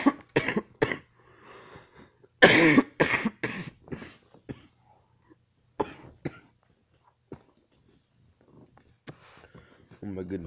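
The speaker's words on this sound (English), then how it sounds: "that was the worst cough" A harsh, loud cough bursts out amid chatter, followed by more speech and a few quieter throaty sounds.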